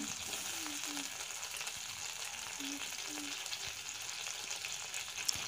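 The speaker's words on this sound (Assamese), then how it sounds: "মই ঘিউখিনি বনাবলৈ এটা পুৰণা কেৰাহী ব্যৱহাৰ কৰিছো আৰু ইয়াত উঠাই ৰখা মাখনখিনি কেৰাহীটো গৰম হোৱাৰ পিছত ইয়াত দি দিছো।" Butter sizzling and bubbling in an old heated kadai as ghee is made, a steady dense crackle that fills the clip, close and even, with faint soft stirring now and then and no speech.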